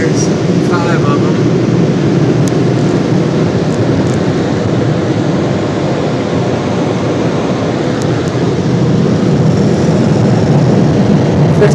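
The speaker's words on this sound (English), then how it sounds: "Tech 21 dryers, 5 of them" Five MacNeil Tech 21 car wash dryers blow in a steady, loud, continuous roar of rushing air with no break, filling a car wash tunnel in Shiloh, Illinois.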